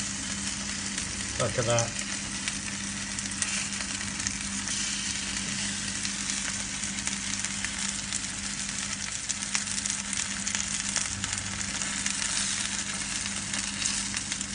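Onion bhajis crisp and turn golden in hot oil, giving a steady, dense sizzle that holds at an even level the whole way through, with a brief spoken remark near the start.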